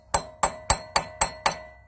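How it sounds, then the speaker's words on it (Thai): A hammer strikes a magnetic wheel part six times in a steady, evenly spaced rhythm, each blow a sharp, close metallic clank with a short ringing decay and no voices over it. "เอาอย่างนี้แล้วเอาค้อนตีก็ได้"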